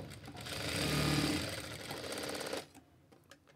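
A sewing machine whirs steadily while stitching darts, running at speed for about two and a half seconds before stopping, followed by a few faint clicks.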